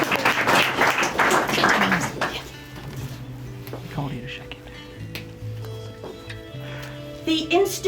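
Applause at a winter wedding ceremony after a reading, a burst of clapping from the guests lasting about two seconds, then fading into quieter room sound and soft talk.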